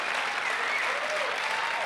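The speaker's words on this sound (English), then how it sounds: "I would love for you all to clap for them, please." An audience at a school graduation talk applauds graduating students from Montbello High School, a dense, even wash of clapping from many hands throughout.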